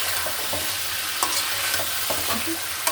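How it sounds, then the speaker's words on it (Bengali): Drumsticks fry in a pan with cumin, turmeric, chili and coriander powder, giving a continuous close sizzle with several brief scraping stirs spaced unevenly throughout. "কষানোটা ভালো করে কষিয়ে নিতে হবে এখানে দিয়েছি আমি জিরে গুঁড়ো হলুদ মরিচ একটু ধনে গুঁড়ো"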